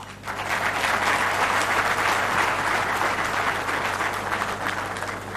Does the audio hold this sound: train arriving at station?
no